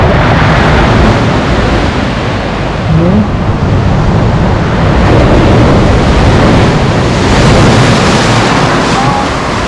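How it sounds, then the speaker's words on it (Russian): Stormy sea at Lazarevskoye crashes against the shore in a loud, continuous roar of breaking waves, with heavy wind buffeting the microphone throughout. "волны стали чуть-чуть слабее"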